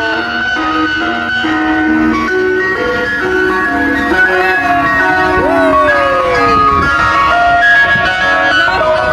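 An ice cream truck pulls up playing its loud, continuous melodic jingle, a bright repeating tune that stays close and steady throughout.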